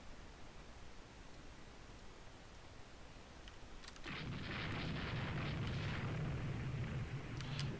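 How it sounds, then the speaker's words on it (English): Naval gunfire in the warship strategy game Rule the Waves 2: a quiet hiss with scattered ticks, then a sudden sustained roar of distant booming fire that carries on steadily to the end. "They're shooting at something."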